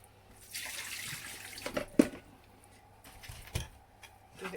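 Roughly a cup of water pours into a dish of baked Greek giant beans, a short splashing trickle with a few sharper drops and knocks, close and fairly quiet, with no talking.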